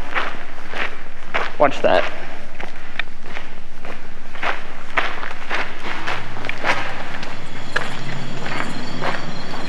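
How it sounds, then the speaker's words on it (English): Footsteps outside a building at night, crunching steps spread through the clip amid insect chirps and background noise, with people talking over them. "it was footsteps, like it was coming like behind us"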